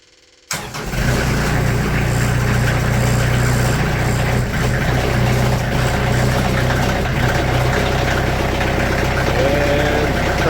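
A sawmill engine cranks from cold and catches on the first try, then settles into a steady, loud, continuous idle that runs alone with no talk over it.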